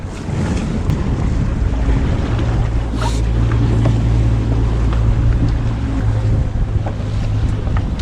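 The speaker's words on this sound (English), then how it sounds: "All right, kill the engine." A boat's engine drones steadily out on open water near the sea, with wind buffeting the microphone and waves washing around the hull; no one speaks.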